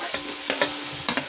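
Onion is stir-fried in a pan with a close, steady sizzle. A few quick scraping strokes of a spatula or spoon sound over it during this short moment.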